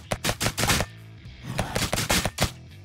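Rifle gunfire in the zombie video game Nearly Dead, with rapid bursts of automatic shots in two clusters separated by a short pause, loud and close with no talking.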